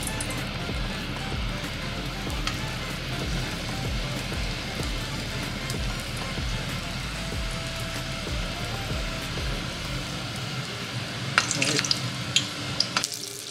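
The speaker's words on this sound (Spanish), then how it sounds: "pero también vi que queda más rico después freír esos sopes" Mexican sopes frying in hot oil, a steady dense crackle and bubbling sizzle running throughout at close range, with a few sharper pops and clatters near the end and no talk.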